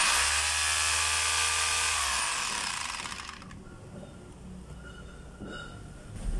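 A DeWalt D25133 rotary hammer running in hammer-only mode pounds with a loud, dense buzzing drone for about three seconds, then winds down and stops, leaving quiet handling and faint rustling.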